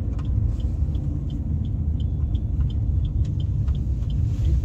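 A vehicle driving on a hill road toward Rishikesh in Uttarakhand, a loud steady low rumble of engine and road noise heard from inside, with faint high chirps above and no talking.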